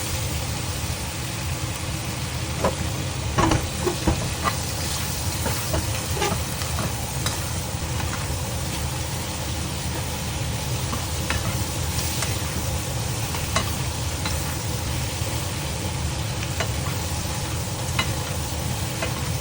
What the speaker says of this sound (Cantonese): 一路兜一路兜， 直至到啲蝦熟為止咧